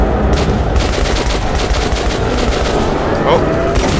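A shotgun in the video game Metro Last Light blasts repeatedly during loud combat, sharp close shots stacked over dense gunfire and rumbling background noise.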